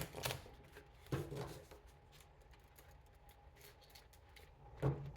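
Tarot cards being shuffled by hand, a few brisk riffling bursts with quieter handling and rubbing between them, close and fairly soft, with no talking.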